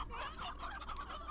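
A rooster in the video game Slime Rancher gives a brief, close, nasal clucking, faint and steady, with no talking.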